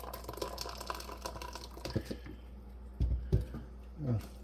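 Liquid, a red chile sauce mixture for pork tamales, is poured and strained into a bowl in a kitchen, with light splashing, trickling and a few clinks against the bowl.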